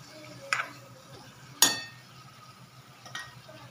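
A spoon scrapes and clinks against a pan in three sharp, separate strikes as black masala spices stir-fry in oil for katval bhaji, with a faint sizzle underneath.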